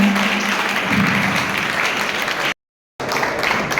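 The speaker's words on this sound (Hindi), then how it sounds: "जब तक इनका माल्यार्पण कृपया तालियां रुके नहीं" A crowd keeps up loud, continuous applause while a guest is garlanded at a ceremony, the clapping briefly cut to silence for a moment before it resumes just as strongly.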